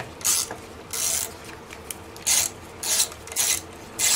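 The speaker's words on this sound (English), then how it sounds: "I think I'm going to unscrew this from the cylinder head" Hand tool turning cylinder head bolts on a Weed Eater BC24W string trimmer, five short raspy ratcheting bursts at close range separated by brief pauses.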